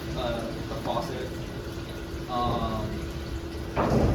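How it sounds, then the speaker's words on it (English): A faucet runs water into an aquaponics tank, making a continuous splashing, bubbling flow at moderate level that swells slightly louder toward the end. "This should have plenty of aeration with the faucet."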